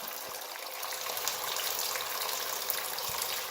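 Engine coolant gushes out of a car's cooling system during a head gasket job, a steady hissing rush of liquid close by that holds at an even level for the whole stretch, with no voices.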